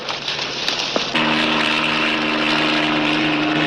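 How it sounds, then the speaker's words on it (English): A Civil Air Patrol search plane drones steadily overhead, its propeller engine tone rising in after a second and holding loud and constant to the end, with no talking. "It's a Civil Air Patrol searcher's plane."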